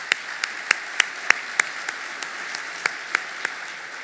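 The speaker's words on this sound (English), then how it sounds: "how about a round of applause" A small audience claps for servers at a National Safety Council event, a scattered handful of distinct sharp claps spaced apart rather than full sustained applause, fading toward the end.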